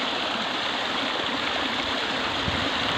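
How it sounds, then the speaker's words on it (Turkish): Water flows steadily and evenly from the historic Sokollu fountain, a close, continuous broadband rush with no pauses and no voices. "Gördüğünüz gibi su arkadaşlar çok güzel akıyor."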